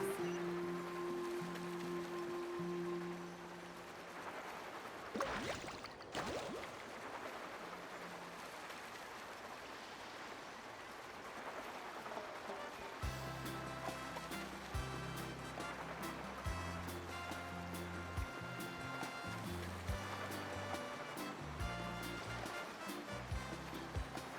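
Surfing over ocean waves in the video game Genshin Impact: steady rushing water and surf wash throughout, with a brief splashy burst early on, then game music joins and plays under the continuing water.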